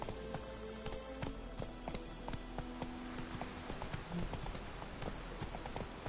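Horse galloping in The Witcher video game, a steady rapid clip-clop of hooves running throughout over a low ambient game score.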